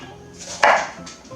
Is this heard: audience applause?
no